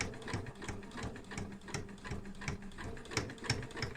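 A sewing machine runs nice and slow, stitching a back tack along the seam of a zip purse, its needle chattering in a quick, regular rhythm of close stitches.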